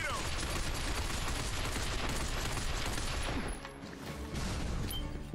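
Dense, continuous gunfire from Binary Domain, a loud barrage of overlapping shots that dips briefly near the end and then resumes, with faint voices underneath.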